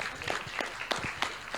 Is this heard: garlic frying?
no